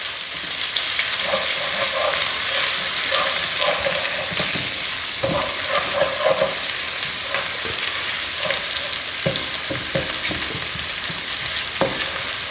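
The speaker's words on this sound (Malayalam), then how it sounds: "ഒരു തണ്ട് വേപ്പിലയും ഇപ്പം ഞാൻ ഇടുന്നുണ്ട്" Curry leaves sizzle and crackle steadily in hot oil for a Kerala-style egg biryani, with occasional sharp pops and stirring clinks over a continuous loud fry.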